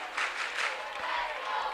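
Crowd in Percy Perry Stadium at a 2008 under-19 boys lacrosse game between USA and Canada, chanting a rhythmic cheer for Canada; a brief, fairly distant roar of many voices with a couple of swelling pulses.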